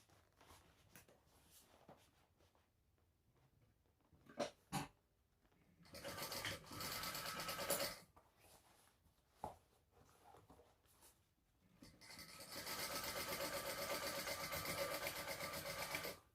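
A sewing machine stitches around the seam allowance of a Sunset Bag in two bursts of rapid, even whirring, the second longer, separated by quiet stretches with faint handling noises.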